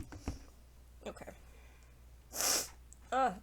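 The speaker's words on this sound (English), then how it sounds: "I'm sorry, I'm sniffling." Someone sniffles, with a few short nasal sniffs spread out across a few seconds, close to the microphone in a quiet room. A sharper, louder sniff comes near the end.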